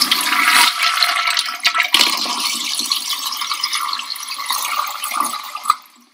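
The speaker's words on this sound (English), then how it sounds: "You could see how the flush actually works inside of the bowl." A toilet that has been cut in half flushes with a loud, close rush of water that runs steadily and then tails off at the end.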